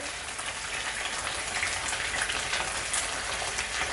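Capitaine fish, dusted in flour, fries in hot oil with a loud, continuous crackling sizzle like heavy rain, close up and steady throughout, with no voices.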